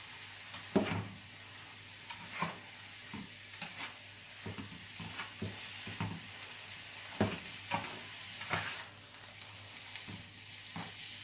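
Ground beef browning in a pan for a Bolognese-style dish, with a steady low sizzle broken by irregular scraping stir strokes, fairly quiet and close, with no talking.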